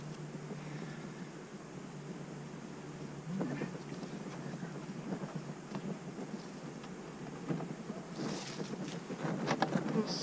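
Honeybees from an overwintered hive hum in a low, steady buzz that holds throughout, close by and fairly quiet, with faint handling noises and brief rustles near the end.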